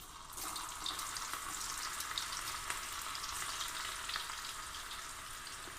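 Bitter gourd chips fry in hot oil with a dense, even sizzling hiss that holds steady and fairly loud from start to finish, with no talk over it.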